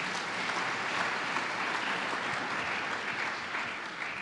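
A church congregation applauds together in a steady, dense wave of clapping that fills the room at an even loudness throughout, with no one speaking over it.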